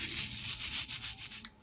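Dr Beckmann stain remover being rubbed by hand into a fabric pillowcase to lift sweat, dirt and grease marks, a steady close scrubbing friction with rhythmic strokes and a brief sharper scuff near the end.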